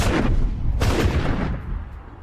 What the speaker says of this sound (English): The explosion sent debris flying in all directions.